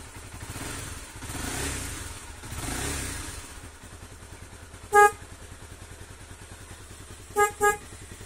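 Replacement horn on a Honda CBR 250R motorcycle sounds one loud honk, then two quick honks a little later, over the steady low rumble of the idling engine.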